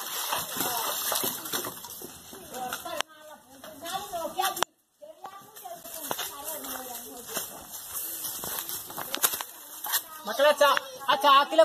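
A buffalo splashing in a pond, with bursts of sloshing water up close and voices talking over much of it.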